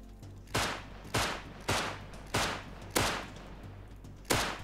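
Single gunshots crack out one by one in the survival game Rust, six or seven sharp, loud reports spaced roughly evenly about half a second to a second apart, each with a short decaying tail.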